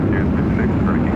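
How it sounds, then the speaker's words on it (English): A Qantas Airbus A330 landing at LAX gives a steady, loud low roar of jet engines, continuous and unbroken over its brief length. "up next, Qantas A330. Coming in from Brisbane, flight 15."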